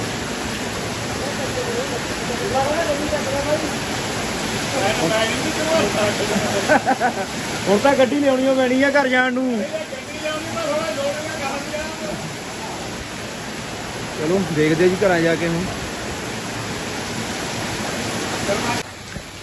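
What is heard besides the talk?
very heavy rain pouring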